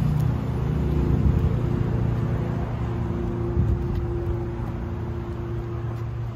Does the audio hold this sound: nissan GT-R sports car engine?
yes